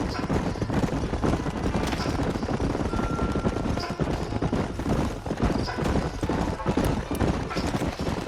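Hooves clip-clop in a steady trot through a dense, busy mix of Red Dead Redemption game ambience, with voices murmuring now and then.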